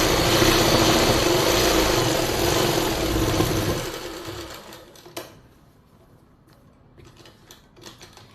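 Sewing machine running steadily as it stitches the lining of palazzo pants, a loud continuous whir for about four seconds, then stopping, followed by quieter handling clicks and taps.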